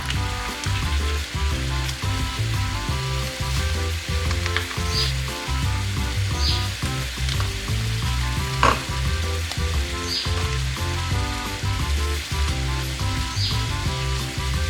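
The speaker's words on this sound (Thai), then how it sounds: "ตั้งหม้อนะคะ จากนั้นก็นำน้ำตาลมะพร้าวค่ะ ลงไป ต้มนะคะ" Steady bubbling and sizzling from a pot of coconut sugar boiling on the stove, continuous and close, with occasional clinks of utensils.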